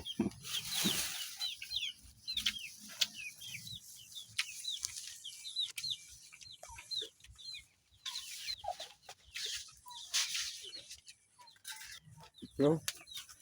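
A rooster clucks nearby in a long series of short, repeated clucks, with wing flaps and scattered background noises. People talk faintly in the background at times.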